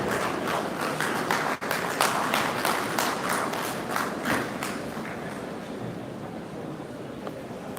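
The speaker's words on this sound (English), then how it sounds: "may I ask that you give her a round of applause as she steps onto the microphone" Applause at the Baze University 12th convocation ceremony as a speaker steps to the microphone. Distinct clustered claps ring out at first, then thin and fade into a softer patter over about eight seconds.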